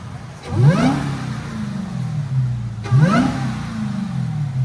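A 2023 Dodge Charger Hellcat 6.2L supercharged HEMI V8 with CARVEN R-Series mufflers revs twice, each rev rising into a high supercharger whine before settling back to a low idle rumble.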